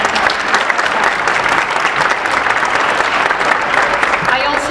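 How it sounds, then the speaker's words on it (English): A big round of audience applause for a secretary at a public event with a mayor present, loud sustained clapping that stays steady throughout with faint voices underneath. "join me in giving a big round of applause for our best secretary"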